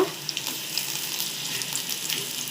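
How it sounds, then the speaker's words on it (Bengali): Garlic paste hits browned onions frying in oil for Bengali aloo dum, giving a dense, continuous sizzle with faint crackles throughout. It is close and steady, with no voices over it. "দেখো রসুন বাটাটা দিয়ে দিলাম"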